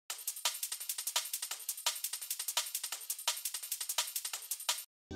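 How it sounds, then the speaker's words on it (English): Chopped-up drum break layered into a dirty jump-up drum and bass drop: fast, dense hits of snappy snares and hats in a busy rolling rhythm, bright and loud without any talk, stopping abruptly near the end. "I added in a chopped up drum break which sounds like this."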